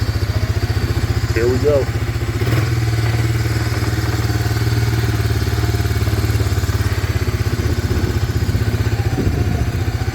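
A 1995 Honda Fourtrax 300 ATV, sitting unused for 15 years, runs steadily close by as its transmission engages reverse, a loud rough idle with a clunk partway through and a person talking over it.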